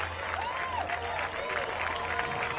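Crowd applause and cheering for Danish competitor Christian Andersen at the ISA SUP men's final 2017, a steady, dense wash of clapping that continues throughout under a faint hum.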